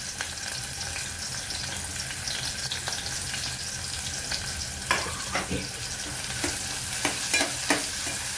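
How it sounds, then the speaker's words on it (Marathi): Onion frying in hot oil with bloomed cumin seeds, a constant close hiss and crackle with occasional scraping taps from stirring, steady and fairly loud, with no talking. "जिरं चांगलं फुललं की आपण कांदा घालून घेऊ"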